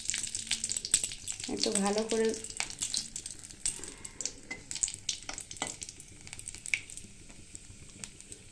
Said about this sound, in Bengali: তেল গরম হয়ে গেছে, কালো জিরে ফোড়ন দিয়ে দেবো আর শুকনো লঙ্কা ফোড়ন দিয়ে দেবো।